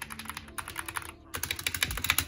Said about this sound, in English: So yeah, very good keyboard, super fast. Sound test.